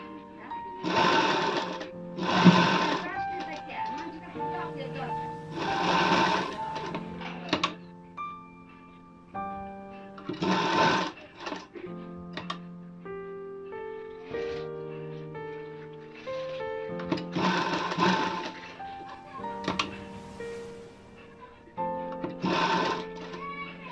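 A sewing machine stitches a princess-cut blouse sleeve in short, repeated whirring runs separated by pauses, close and clear, while someone talks during the gaps.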